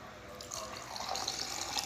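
Sparkling water spilling, heard as a faint, quiet trickle and fizzing splash that grows slightly busier toward the end, with no talk over it.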